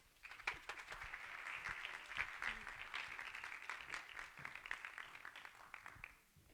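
Applause from the audience at a Chilean university talks event on a low-carbon economy, a moderate round of clapping with a few distinct claps rising above it, lasting about six seconds before dying down.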